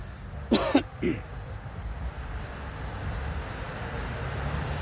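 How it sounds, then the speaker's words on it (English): Two short coughs close together near the start, then quiet low background rumble for the rest. "I had to actually cough."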